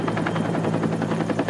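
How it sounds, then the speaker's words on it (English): A firefighting helicopter flies overhead during a wildfire, its rotor blades thumping in a steady, rapid rhythm that stays loud and close throughout, with no voices. "The helicopter attack for this, about as relentless as the fire itself"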